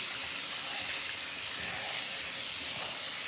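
Water runs from a kitchen faucet as a rag is rinsed out. It makes a steady broadband rush and hiss, even and continuous, with no voices.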